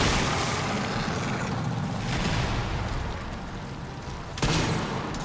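Rifle fire and booming blasts in the video game Resident Evil Requiem form a loud, dense barrage that comes in waves and ends with a sharp late impact, with no speech over it.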